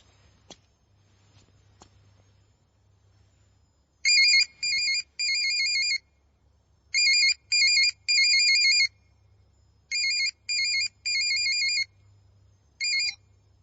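A phone ringtone in a Hindi suspense horror film plays in several repeated electronic bursts of rhythmic chirping tones, loud and clear above a quiet low hum, with short gaps between groups.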